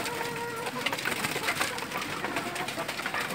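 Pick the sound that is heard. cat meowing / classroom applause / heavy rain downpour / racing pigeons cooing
racing pigeons cooing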